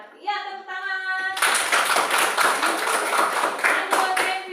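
A classroom of students claps together in a dense, rapid burst of applause that lasts several seconds, with a brief voice heard just before it starts.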